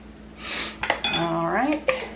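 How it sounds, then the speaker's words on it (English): Garlic tossed into a pressure cooker pot for ham and bean soup, giving a loud close metallic clatter and a sizzling hiss with a brief scrape, with no talk over it. "I'm going to throw some garlic in."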